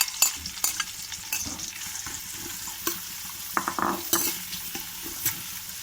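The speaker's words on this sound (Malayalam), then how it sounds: "നമ്മുടെ സവാള അരിഞ്ഞത് അതിലേക്ക് ഇട്ട് കൊടുക്കാം" Sliced onions frying in biryani masala in a pan, a steady close sizzle with repeated stirring scrapes and clinks of a spoon, no voices.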